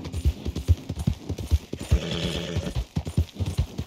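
Horse hooves clip-clop in a steady, close, loud rhythm in the video game Red Dead Redemption 2, with a brief whinny in the middle and no talk.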